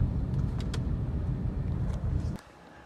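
Steady low road rumble of cars in a school-time traffic jam, continuous and moderately close, with a few faint higher clicks, dropping away sharply near the end; no talk.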